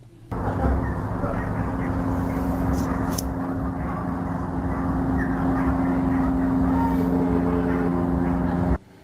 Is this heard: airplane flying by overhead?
yes